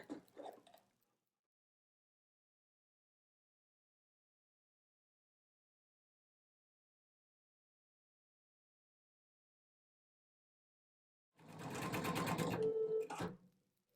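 A home embroidery machine stitching with black thread runs in a steady, loud mechanical burst near the end, after a long silence and a brief faint sound at the start.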